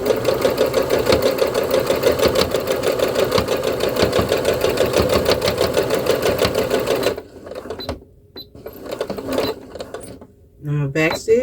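A domestic sewing machine back stitching through fabric runs a fast, steady, close-up stitching whir for about seven seconds, then stops and gives way to quieter handling noises and a brief voice.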